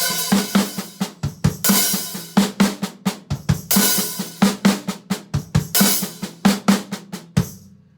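A drum kit plays a repeating lick with flams, the grace note moved onto a slightly sizzly, half-open hi-hat, with punchy hits and bursts of cymbal wash repeating steadily, loud and close, with no talk.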